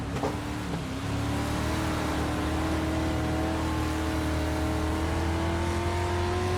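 In a racing video game, a big block modified race car roars up and passes, its engine note climbing and holding loud and steady after a brief quieter opening.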